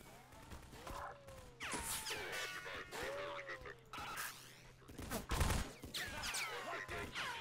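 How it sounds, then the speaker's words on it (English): Bursts of AR rifle fire from the Half-Life 2 mod Absolute Pressure, with Combine troops and elite soldiers, crack in repeated volleys amid battle noise, fairly faint overall. "Love the sound of the AR."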